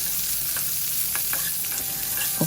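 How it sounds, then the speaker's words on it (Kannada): Onions and curry leaves roast in a pan for a cluster bean palya, a steady close sizzle with light stirring scrapes and a few brief clinks, no voices. "ಚೆನ್ನಾಗಿ ರೋಸ್ಟ್ ಮಾಡ್ತಾಯಿದ್ದೀನಿ ಈಗ."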